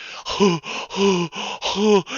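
A voice imitates exhausted panting, with four or five ragged, voiced breaths in a heaving rhythm, close and fairly loud, each gasp rising and falling with short pauses between.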